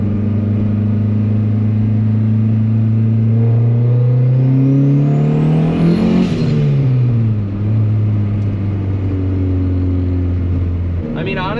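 A car with a built turbocharged Honda D16 engine running E85 fuel at 25 psi boost pulls hard from inside the cabin, its engine note rising steadily to a peak and then dropping back. The drone stays loud and continuous throughout.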